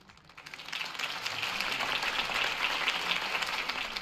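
Crowd applause following Harvey Dent's campaign speech in the Telltale Batman video game: clapping swells in over the first second, then holds as a steady, fairly faint wash with no voices over it.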